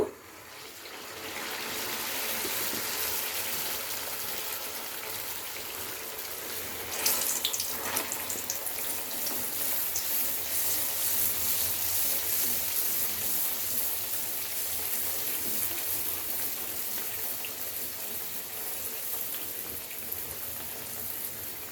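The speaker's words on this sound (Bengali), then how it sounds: "এবারে আমি একটা একটা করে এর মধ্যে দিয়ে ভেজে নেব।" Chattu litti sizzling as they fry in hot mustard oil, a steady, loud hiss and crackle that swells briefly when more pieces drop in, with no talking.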